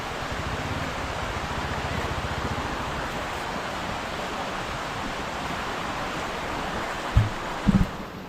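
Rautwadi Waterfall in early monsoon pours from a height, giving a steady, broad roar of rushing water that holds evenly throughout, with a couple of brief low thumps near the end.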